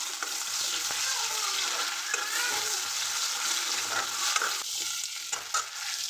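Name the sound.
onions frying in oil in a pan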